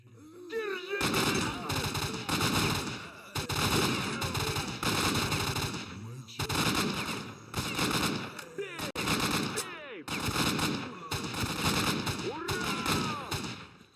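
Gunfire in the video game S.T.A.L.K.E.R.: Shadow of Chernobyl comes as loud, rapid automatic bursts that repeat in several volleys separated by short pauses.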